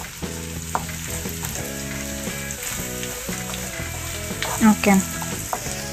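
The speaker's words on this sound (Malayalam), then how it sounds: "ഇപ്പം കുറച്ച് വെള്ളമൊഴിച്ച് വേവിച്ചെടുക്കുക. അന്ന് ഇതൊന്ന് മിക്സാക്കട്ടെ നന്നായിട്ട്." Dates and pomegranate sizzle and fry in a pan while being stirred, a steady close crackle broken by scraping stirs, with a brief word spoken.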